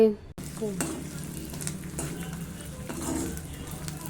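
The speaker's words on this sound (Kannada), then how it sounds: "ಸೊ ಆಯಿಲ್ ಬಿಸಿ ಆಗ್ತಾ ಇದೆ" Oil heating and sizzling in a pan for frying a homemade chickpea-flour mixture snack, a bright steady crackle with utensil clinks after a brief clatter at the start.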